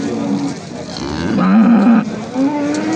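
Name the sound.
Simmental cow mooing at livestock market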